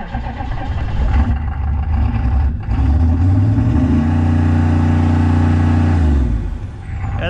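A Chevrolet 6.5L diesel V8 in a GMT400 truck revs hard, climbing to a loud sustained roar held at the limiter before dropping back, heard close and loud with no talking.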